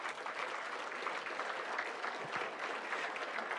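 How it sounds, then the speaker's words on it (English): Audience at a live Cincinnati mayoral debate applauds, a steady, full round of clapping that holds at an even level for several seconds with no talk over it. "Give yourselves a round of applause."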